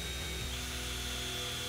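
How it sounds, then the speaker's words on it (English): A 3/4 inch countersink bit in a power drill bores a center hole through a dirt bike fork guard, giving a steady, unbroken whine at moderate level with no talking. "we'll take the supplied 3/4 inch countersink bit and we'll go ahead and drill that center hole."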